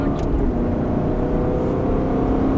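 An Aston Martin on a test circuit accelerating hard, a steady low engine drone with a constant whir, close and loud, with no speech over it.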